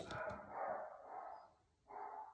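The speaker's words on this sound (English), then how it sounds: "Sorry, the doggies are barking" Several dogs bark in a few muffled bursts from another room or outside, faint and somewhat distant, with a short pause before a final bark.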